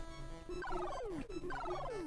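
Birds in a video game give two quick gobbling, turkey-like calls with a descending warble. The calls are close and clear over a steady game backdrop.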